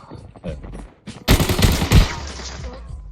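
A dense burst of gunfire in the video game Arena Breakout, loud rapid shots lasting over a second, after a few quieter scattered pops and thumps.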